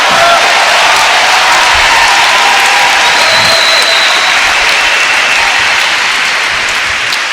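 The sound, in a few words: applause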